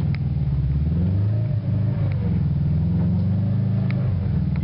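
Car engine revving as gas is applied, a loud close rumble rising and falling in pitch across several revs, steady and without talk.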